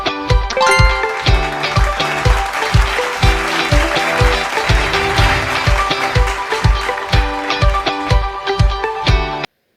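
Steady crowd applause, a dense clapping sound effect played inside a phone app builder, continuous and loud for nearly ten seconds with no voices over it.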